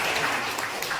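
A classroom of students applauds at the close of an Islamic religious education lesson, giving a brief, dense burst of steady clapping that fills the room.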